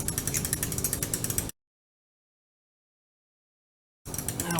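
Ratchet clicking rapidly while tightening throttle body bolts on a 2005 Chevy Trailblazer, a steady close run of pawl clicks that stops abruptly, falls silent for over two seconds, then resumes.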